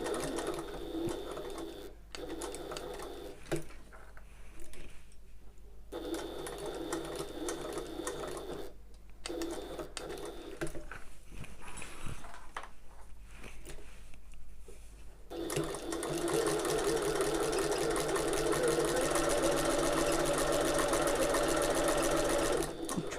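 A home sewing machine stitches through layered fabric of an open-top tote bag, running steadily and loud in continuous bursts with short pauses between runs, the motor whirring alone without talk.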